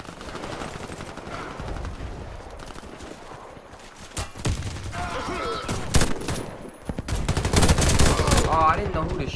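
Automatic weapons fire in the online shooter Warface rattles in dense bursts, growing louder and more frequent toward the end, with a voice talking over the gunfight at times.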